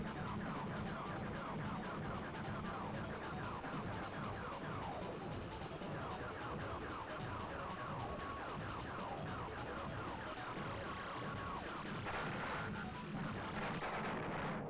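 Rapid laser shots fired at enemies in the Star Fox video game at level 3 difficulty, a steady stream of repeated blasts over dense game music and effects throughout.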